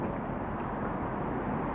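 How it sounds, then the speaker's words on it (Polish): A constant low roar of cars passing on a road overhead, broad and rumbling, filling the whole moment without breaks. "sorry za te szumy samochodów, które jeżdżą nad naszymi głowami"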